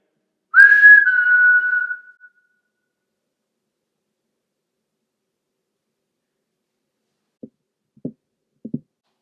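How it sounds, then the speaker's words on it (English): A single clear whistled tone, rising then held for about a second, followed after a long silence by a few faint soft knocks. "I'm gonna whistle if you can whistle back, just like me."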